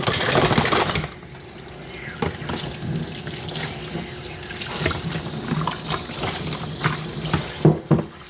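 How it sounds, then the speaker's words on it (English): Water from a running tap rinses shampoo out of a Coton de Tulear's coat, a loud gush at first, then uneven splashing and dripping with intermittent sprays close by. "So, those two shampoos and his facial done. I'm going to rinse them out."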